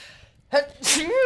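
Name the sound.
a sneeze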